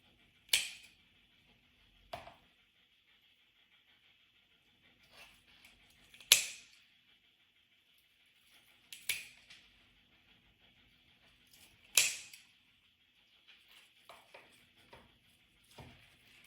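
Scissors snip through branching rice flower stems a few inches below the blooms, as sharp isolated clicks spaced a few seconds apart, close and fairly quiet, with faint rustling of the delicate dried stems between cuts.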